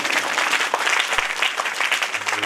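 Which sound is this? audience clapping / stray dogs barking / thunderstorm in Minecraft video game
audience clapping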